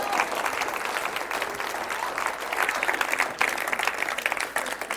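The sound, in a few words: audience applause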